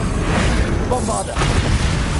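Bombarda blasting spell in a Harry Potter video game: a loud, heavy booming explosion that fills the whole short stretch with a dense rumbling roar.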